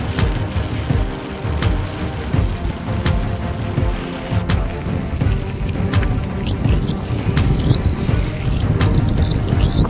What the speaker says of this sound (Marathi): राज्यातील अनेक जिल्ह्यांना मुसळधार पावसानं अक्षरशः झोडपून काढलंय